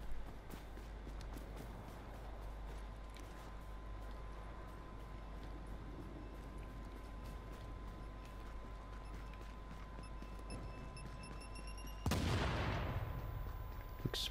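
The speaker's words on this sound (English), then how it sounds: "Explosion." Explosion in the video game Tom Clancy's The Division, a sudden loud burst near the end after a stretch of steady game noise and footsteps, with no talking.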